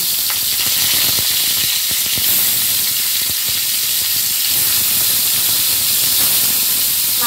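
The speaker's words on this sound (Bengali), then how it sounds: "তেল গরম হয়ে গেছে, এবার আমি কই মাছগুলোকে তেলের মধ্যে দিয়ে দিচ্ছি।" Koi fish laid into hot oil in a pan set off a loud, dense, continuous sizzle and hiss that fills the whole stretch close up, with no talking.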